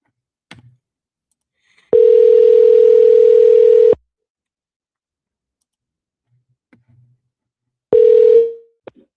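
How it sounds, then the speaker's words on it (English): Telephone ringback tones sound while a call to a property seller connects: two long steady beeps, each about two seconds, separated by a long silence with faint clicks, loud and clear. "let's call him first and let's see if he picks up the phone"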